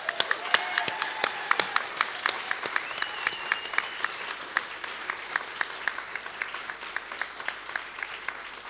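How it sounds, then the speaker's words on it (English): Applause for Simon at a film festival awards show rolls on as a sustained crowd of clapping hands, with some sharp nearby claps standing out over the steady wash, and no speech. "Can we get a round of applause for Simon first?"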